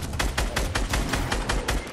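Rapid bursts of gunfire in Fortnite, around ten sharp shots in quick succession forming a fast, loud volley with no talking.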